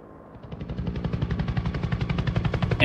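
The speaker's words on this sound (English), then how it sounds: "You see the helicopter in the distance taking off to come on up here." A helicopter approaches a mountaintop for transmission tower removal, its rotor chop building from a low rumble into a loud, rapid, steady thudding that grows nearer and louder throughout.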